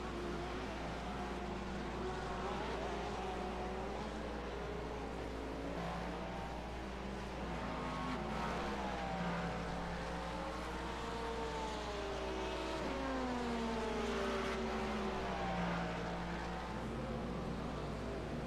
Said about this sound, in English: We've got GT3 cars just ahead. And hypercars catching us from behind.